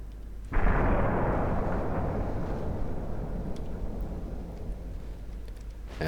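Naval guns opening fire in the warship game Ultimate Admiral Dreadnoughts, a sudden deep boom followed by a long rumbling roll of heavy salvos that fades slowly, with no voices.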